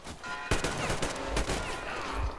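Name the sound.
gunshots in Metro Exodus video game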